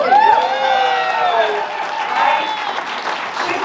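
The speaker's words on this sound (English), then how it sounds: "let's give it a nice round of applause for our host of the New Hyde Park Fire" A crowd at a St. Patrick's parade honors ceremony in New Hyde Park claps in a steady wash of applause, with a speaker's amplified voice running over it.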